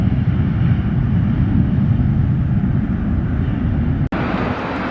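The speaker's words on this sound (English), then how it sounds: "we can see a plane just taking off" A plane taking off at LaGuardia Airport sends a loud, steady, broad jet roar through the whole stretch, with one brief sharp click near the end and no voices.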